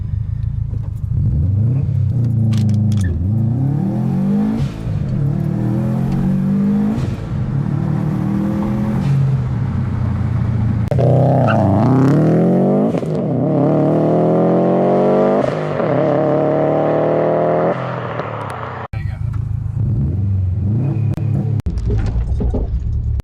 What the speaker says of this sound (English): We're going to go ahead and try to do our first launch.